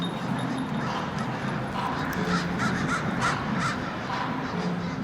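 Crows caw in Portland at night. Several harsh calls rise over a constant urban background hum, with a few yelping dog-like sounds mixed in.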